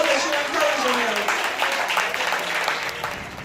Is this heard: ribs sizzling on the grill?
no